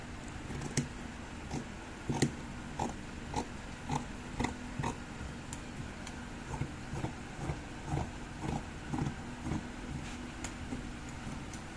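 Scissors cut through dashiki fabric along a round neckline with a V slit, giving a steady series of sharp, close snips and crisp fabric rustles at a regular rhythm with no talking.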